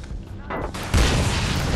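A grenade explodes in the video game Army of Two: The Devil's Cartel, a single heavy boom that lands near the end of a short stretch of gunfire, with a voice speaking around it.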